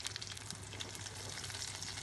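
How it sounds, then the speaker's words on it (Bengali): Chopped onions fry in regular cooking oil in a pot on the stove, giving a dense, continuous sizzle with crackling pops, close and steady throughout. "চুলায় একটি পাত্র বসিয়ে তাতে রেগুলার রান্নার তেল দিয়ে দিচ্ছি কিছুটা পেঁয়াজ কুচি।"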